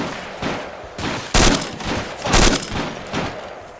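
Heavy weapons fire in a combat video game, including a tank firing, heard as a rapid sequence of loud booming shots in an irregular rhythm, two especially strong blasts standing out over several seconds.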